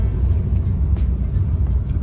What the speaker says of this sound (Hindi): तो ये हिंजवाड़ी का ट्रैफिक कम नहीं होता